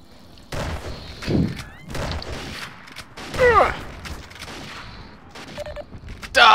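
Zombie Master PC shooter gameplay: repeated close gunshots and mechanical clatter against zombies, irregular bursts with a loud shot at the end, under frantic game sounds.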